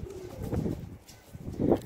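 Soft, low pigeon coos close by, a couple of brief murmuring calls against quiet background.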